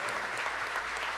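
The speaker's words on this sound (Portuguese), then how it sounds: "Vamos aplaudir o Senhor pelos 10 anos dele" A church congregation applauds in a steady, dense roar of many hands, moderately quiet and unbroken, with no talk over it.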